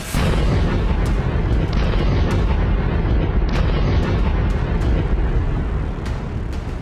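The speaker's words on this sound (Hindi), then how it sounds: "गाजा पट्टी में हमास पर 3 हवाई हमले किए गए" Israeli air strikes on Hamas in the Gaza Strip produce dense, continuous rumbling blasts and booms with sharp crackling bursts on top. The barrage is loud and sustained, with no speech.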